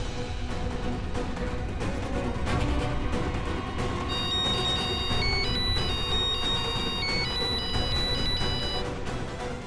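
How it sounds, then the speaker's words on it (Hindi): A telephone ringtone plays continuously, loud and close, its repeating electronic melody layered over a dense dramatic background score with no voices. "किडनैपर का फोन आया दोबारा?"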